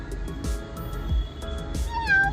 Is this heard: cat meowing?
yes